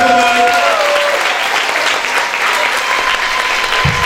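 A graduation audience at a Christian preparatory school applauds continuously, a loud, sustained wash of clapping with some brief tones at the start.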